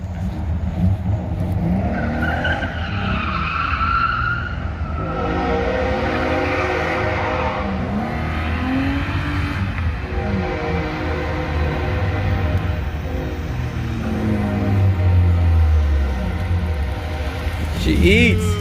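A BMW E36 with a choppy exhaust revving and pulling, giving a loud, close engine drone that rises and falls, with people talking over it.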